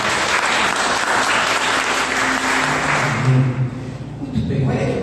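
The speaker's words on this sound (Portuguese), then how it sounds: "Você pode aplaudir o Senhor." A church congregation at a worship service applauds together, full and continuous clapping that begins to thin out near the end as a voice and some murmuring come through.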